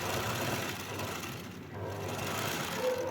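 A sewing machine runs steadily while stitching a churidar pant, a close, even mechanical whir with a low motor hum that briefly eases and then picks up again.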